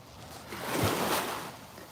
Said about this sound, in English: come down to this beach 5 minutes from home and listen to this water